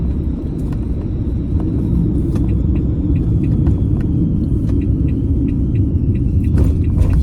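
A car rolls into a car park near Eilean Donan, its low engine rumble and tyre noise steady and loud inside the cabin, with faint ticking clicks over the top and no talking.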